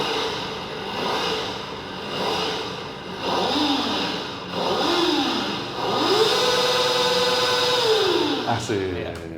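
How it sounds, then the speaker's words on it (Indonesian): A Kawasaki Ninja ZX-4RR four-cylinder motorcycle engine revs in a series of rising and falling blips, ending in a long sustained high rev, with people talking throughout. "Ya, suaranya emang khas 4 silinder banget."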